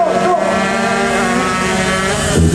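A two-stroke 130cc underbone road-race motorcycle screams past at close range at a racing circuit, its high-revving engine holding a loud, steady buzzing whine throughout with a slight pitch shift as it passes.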